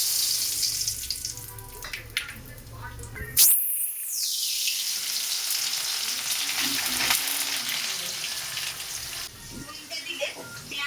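Bay leaf, cinnamon and cardamom hit hot oil with a sudden loud sizzle burst, then settle into steady close frying hiss, with some kitchen clatter throughout.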